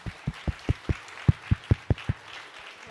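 Slow, sparse claps from a small audience, about ten distinct hand claps spaced evenly across a few seconds at a French-language pitch event, fairly close and with no talking over them.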